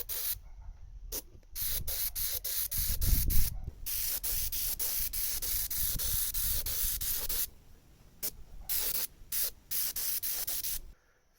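Clear blue paint sprayed onto an RC plane canopy, a series of loud close hissing bursts, some short and some long sustained, with brief quiet gaps between them.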